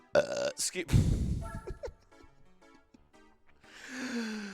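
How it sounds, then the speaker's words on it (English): A loud, close belch bursts out near the start amid breathy mouth noises, followed by quieter vocal sounds and a drawn-out groan-like voice at the end. "Why do I have the worst timing for my belches"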